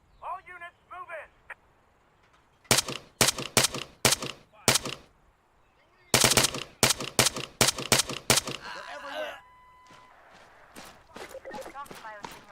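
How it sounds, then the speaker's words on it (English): Bursts of sharp, rapid gunshots from the video game ArmA 3 crack in quick volleys, with radio-style voices talking before, between and after the firing. "I'm hearing gunfire."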